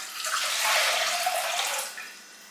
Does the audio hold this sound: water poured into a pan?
yes